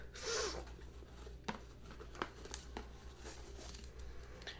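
A Rocksbox jewelry box tied with ribbon is unwrapped close up and quietly: a soft rustle of paper and ribbon at first, then scattered faint crinkles and light taps.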